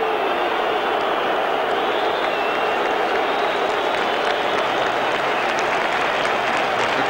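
Football crowd at a 1993/94 top-flight English match rising to applaud a departing player, a steady, dense roar of clapping and cheering that stays loud and unbroken throughout.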